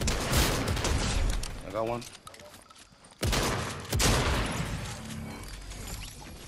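Dense bursts of video game gunfire, a rapid fusillade with mechanical clicks and booms, heard under excited talk from a player.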